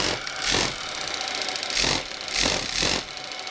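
The small steam engine of the RC tugboat Paterson runs on a test bench with a steady hissing, chuffing churn, and its loudness rises and falls in several broad surges over a constant mechanical rattle, with no one talking.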